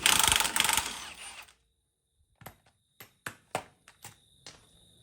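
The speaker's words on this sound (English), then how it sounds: "as we undo this bottom shock absorber bolt" A ratchet works the bottom shock absorber bolt on a Volkswagen Amarok while the suspension rests on a jack. A brief burst of broad noise gives way to a series of sharp, irregular clicks, close and alone.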